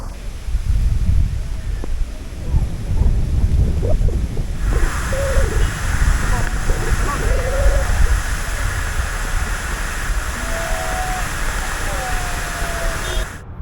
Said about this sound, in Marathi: हा आहे ताम्हिणी घाटातील प्रसिद्ध ताम्हिणी घाट धबधबा